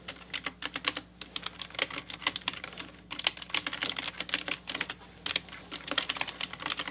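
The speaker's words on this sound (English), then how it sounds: "I'm going to take some notes and input this into my personal computer here, so I'll be typing as we go along." Fingers type steadily on a computer keyboard, close and crisp, in quick runs of keystrokes broken by a few short pauses.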